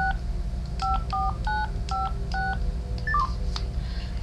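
A phone keypad dialing a call to a pizza restaurant, about ten distinct two-tone beeps in an uneven rhythm over faint background hum, clear and close with no talking.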